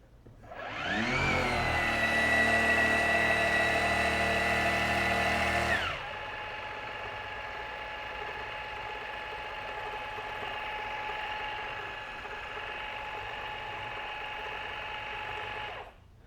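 A Maxflow MPRO 25 Gen 2 portable air compressor switches on and runs, loud and close with a rising whine at start-up, then drops to a steadier, quieter hum that continues before cutting off at the end.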